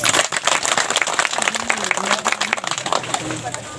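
An audience claps in a hall, dense and uneven, with a voice talking over the applause the whole time.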